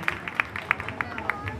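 Applause from an audience at a 25th birthday celebration for an evangelist, a scattering of separate claps rising out of crowd murmur, fairly quiet and short.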